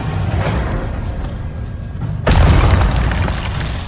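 A Confringo spell explosion in Hogwarts Legacy lands as one loud, sudden boom partway through, rumbling over ongoing game noise and low combat sounds.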